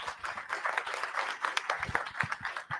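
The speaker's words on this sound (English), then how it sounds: "Let's give them a huge round of applause," Audience applause for House District 49 candidates at a Democratic club candidates forum, a steady patter of many hands clapping close by, with some voices mixed in.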